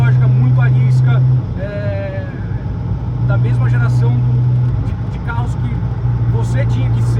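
A Ferrari F40 with a twin-turbo V8 engine drives along, its steady loud engine drone sitting under someone speaking throughout.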